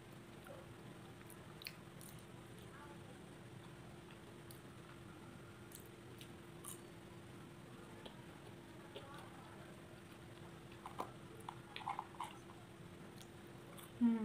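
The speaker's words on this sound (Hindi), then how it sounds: "Now I will have jalebi." Someone eats jalebi, giving soft, quiet chewing and biting with occasional faint crunches and squishes over a low steady hum, growing a little louder toward the end.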